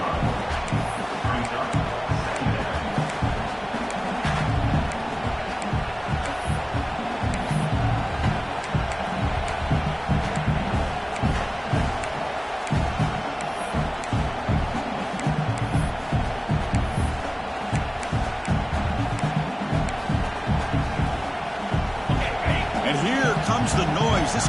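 Loud, continuous stadium crowd roar from a Madden football video game during a red zone defensive stand, steady throughout with a commentator's voice talking over it.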